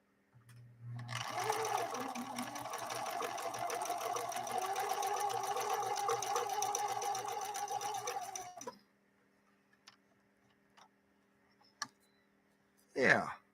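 A vintage Swedish sewing machine stitches steadily for about eight seconds with a fast, even mechanical whir and rattle, close by. A few small clicks follow after it stops.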